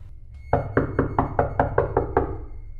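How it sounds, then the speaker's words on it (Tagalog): Eight firm knocks on a wooden door, in a horror story, delivered in an even, moderately quick rhythm, close and distinct over a faint low hum, the last knocks fading slightly. "nakarinig siya ng mga katok"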